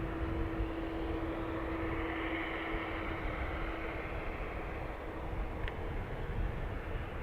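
An American Airlines jet rolls for takeoff on runway 28 right at Dublin Airport, a steady distant engine roar with a droning tone, heard alone without talk.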